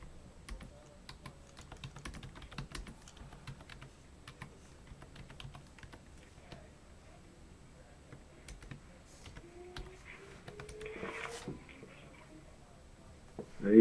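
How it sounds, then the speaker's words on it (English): Light, irregular keystrokes patter on a computer keyboard in quick bursts during a live call-in show, close and fairly quiet, with a brief rising tone near the end. "Sounds like keyboard strokes to me."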